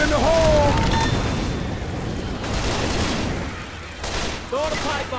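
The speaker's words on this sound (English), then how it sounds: "Throw the pipe bomb." Pipe bomb blast in the zombie shooter Left 4 Dead 2, a loud burst opening over dense gunfire and game chaos, with beeping and chirps at the start and again near the end, and a voice talking underneath.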